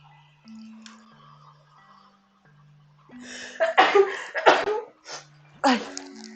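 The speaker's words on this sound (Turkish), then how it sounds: "Hapşıracağım bu sefer gerçekten." A person sneezes amid sharp bursts of breath and throat noise, with a soft whine and low tones in the background before it.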